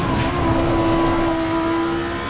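Race car engine in Assetto Corsa Competizione droning loud and steady at high revs as the car runs over curbs, a constant close mechanical roar with a strong sustained tone and no voices.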